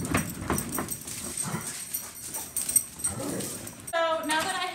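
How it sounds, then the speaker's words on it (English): Dogs whimper and yip excitedly in quick, uneven bursts, close by, followed by a short high-pitched whine at the end. "God, my dogs are spazzes."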